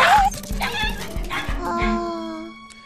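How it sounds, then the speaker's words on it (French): A dog in a scene from the animated film Despicable Me gives a quick series of sharp, rhythmic yaps up close, then trails into a thin, whining tone. "Qu'est-ce que c'est que ce chien"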